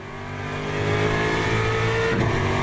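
A GT3 race car engine in the sim racing game Le Mans Ultimate, loud and continuous, the pitch climbing as it revs up, then a quick drop in tone like a gear change near the end.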